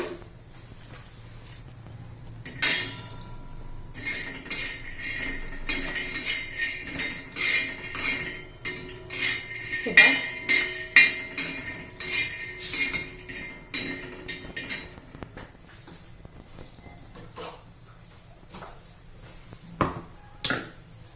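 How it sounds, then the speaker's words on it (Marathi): Dry, rattling clinks and scrapes of peanuts being dry-roasted and stirred in a pan, irregular and fairly close, with no talking. "पाच शेंगदाणे पण आपल्या आता भाजून झालेले आहे"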